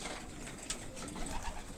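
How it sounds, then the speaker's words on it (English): Young racing pigeons in a loft coo softly against a steady broadband background of loft noise, a low continuous murmur with a slightly louder note partway through. "Couple of young birds."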